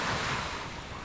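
Ocean surf rushes at a beach shoreline on an overcast morning, a steady broadband wash of waves with wind buffeting the microphone, loud and close, no voices.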